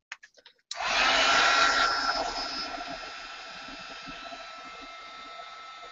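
A heat tool blasts a steady, loud whoosh of hot air over wet paint in an art journal, starting abruptly after a few faint taps and holding close and continuous to the end.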